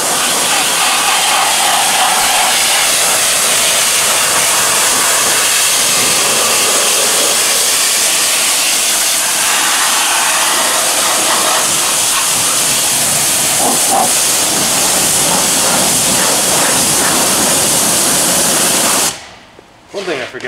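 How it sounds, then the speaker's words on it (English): Water spray rinsing road salt and grime off the wheel of a BMW i4 M50, a steady loud hissing wash running nearly continuously before cutting off abruptly near the end. "start with rinsing as much of the crap off as possible"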